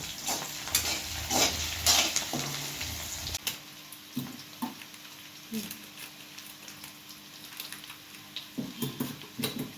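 A paste of green chili, ginger, melon seeds, cashew and poppy seeds fries in oil, giving a steady close sizzle with intermittent stirring scrapes and clinks from the pan.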